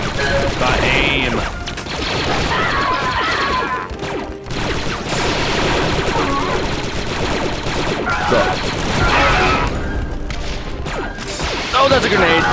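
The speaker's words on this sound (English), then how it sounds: "Oh, that's a grenade." Gunfire and explosions from Star Wars Republic Commando, a squad shooter game, crowd a dense, loud battle soundscape with rapid crashes and bursts throughout, while a person talks over the action.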